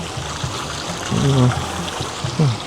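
Running water flows continuously at a hillside farm campsite, a steady trickling stream heard close by, with brief bursts of louder splashing partway through.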